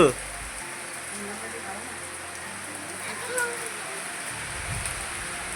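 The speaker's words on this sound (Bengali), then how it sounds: "বৃষ্টি পড়ছে" Steady rain falls on a village home in a continuous soft hiss that stays even throughout, with faint indistinct voices in the background.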